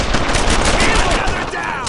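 Rapid automatic gunfire in the World War II shooter Brothers in Arms 2, a close, loud burst of steady shots over battle din, with a faint whizzing sweep near the end.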